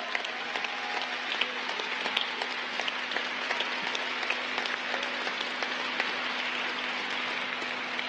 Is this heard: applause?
yes